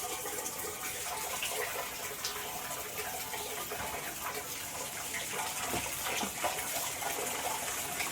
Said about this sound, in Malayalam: നീ വെള്ളം ഒഴിച്ച് കൊടുക്കുക.